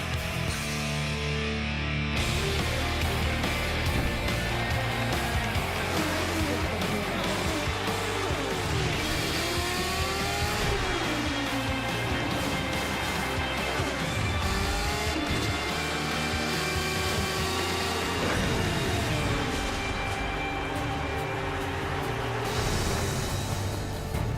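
IndyCar race cars roar through the street circuit of the 2012 Grand Prix of Baltimore, a dense, loud, continuous wash of engines with rising and falling pitch sweeps as cars pass and rev, sustained throughout.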